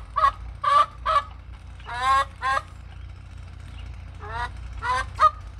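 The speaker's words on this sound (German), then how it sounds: "Die, das so gackert, ist Struppi." A hen cackles nearby in a series of loud, harsh, honking calls, a few short clucks followed by longer rasping cries and another cluster after a quiet gap.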